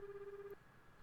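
A telephone rings in the Tokimeki Memorial Girl's Side 4 video game, a single steady electronic ring tone lasting about half a second, faint and clean with no talk.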